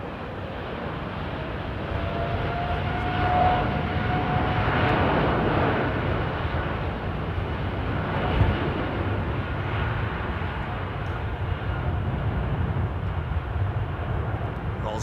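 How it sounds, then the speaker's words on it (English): An Iberia Embraer 190 jet taxis up to the runway line at London Heathrow, a steady, fairly close engine rumble and hiss with a thin whine that swells and holds. "And the KLM Iberia 190, man. Yeah, listen to this thing rolling up to the line."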